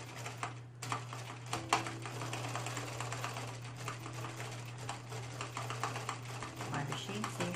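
A sewing machine stitches across the top edge of an apron, running over pins close to the edges, a steady continuous whir with a low motor hum throughout, close and moderately loud.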